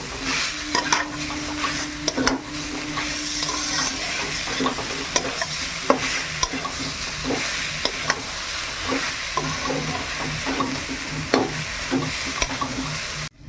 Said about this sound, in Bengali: এবার ভালো করে নেড়ে নেড়ে ভাজতে থাকবো গরম তাপে গুড়টা গলতে থাকবে